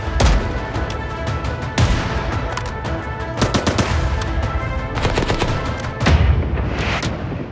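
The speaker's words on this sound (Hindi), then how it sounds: "इस सन्नाटे को चीर रही है गोलियों की आवाज" Heavy gunfire in the West Bank during a clash between the Israeli army and militants: dense bursts of automatic fire and sharp cracks ring out almost continuously, loud and echoing, with louder volleys near the start, middle and end.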